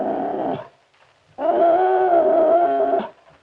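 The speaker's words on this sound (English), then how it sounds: "There must be a dog under the table." A dog hidden under a table lets out two drawn-out whining howls, the second longer, close and clear with no talk.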